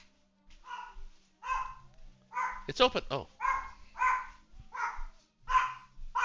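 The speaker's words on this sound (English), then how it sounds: "what's my dog freaking out about?" A pet dog at home barks repeatedly in short, evenly spaced bursts close to the microphone, while a person speaks briefly in the middle of the barking.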